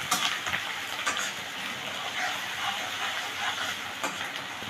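Chopped onion dropped into hot oil in a pan while cooking ghugni, giving a steady, close sizzle and crackle with a few louder spits, without voices.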